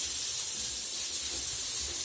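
Sliced onions frying in coconut oil for a Kerala beef roast, heard as a steady, even hiss and sizzle throughout, fairly quiet and with no talking.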